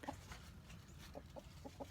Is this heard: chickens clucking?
yes